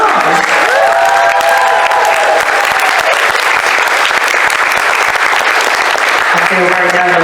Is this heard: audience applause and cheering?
yes